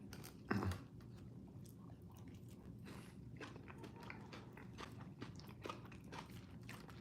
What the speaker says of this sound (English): So I've got the crunch from the salad.